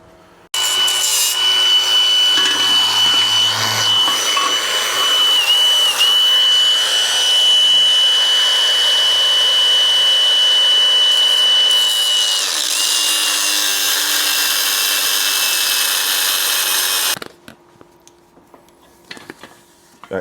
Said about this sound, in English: I'm going to just simply cut the entire bolt.